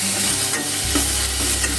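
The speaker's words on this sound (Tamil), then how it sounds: "இந்த தக்காளி புளி எல்லாம் சேர்ந்து இன்னும் கொஞ்சம் நேரம் வதங்கணும்" Tomato and tamarind sautéing in a pan for a pirandai pickle, a close, continuous sizzle with scraping stirring strokes and no voices.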